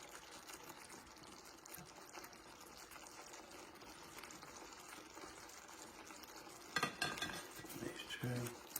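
Meatballs are transferred back into a simmering sauce in a pot and stirred in, with soft scraping and clinking of a utensil against the pot over a faint bubbling background. Clatter grows busier and louder near the end.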